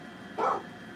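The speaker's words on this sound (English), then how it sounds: "Stand by, my dog's barking at something." A dog gives a single short, muffled bark, somewhat distant, in an otherwise quiet room.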